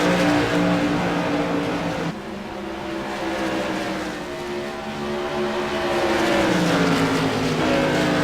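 CRA modified race cars roar around Rockingham Speedway in a loud, continuous engine drone. The pitch rises and falls as cars pass and shift, with one sharp change partway through and a rising rev near the end.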